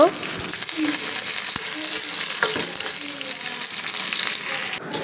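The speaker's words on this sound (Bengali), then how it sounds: "এর মধ্যে এখন আমি পেঁয়াজ কাঁচামরিচ দিয়ে দিচ্ছি, তেলের মধ্যে দিয়ে একটু ভেজে নেব।" Onions and green chilies fry in hot oil in a pan, giving a steady close broadband sizzle with occasional stirring scrapes throughout, with no talking.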